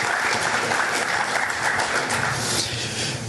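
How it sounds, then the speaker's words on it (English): A forum audience gives a brief round of applause, a loud, dense, continuous patter of many hands clapping that eases slightly toward the end. "join me in a brief round of applause"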